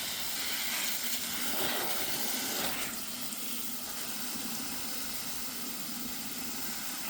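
A steady spray of water hisses and patters over closely packed potted garden plants, a constant close wash of sound with no voices.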